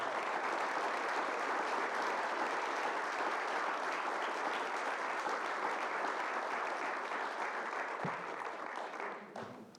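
Steady, sustained audience applause greets keynote speaker Boyd Huppert at a Rotary club celebration, a dense wash of clapping from a large room that holds evenly for most of the stretch before tapering off at the end.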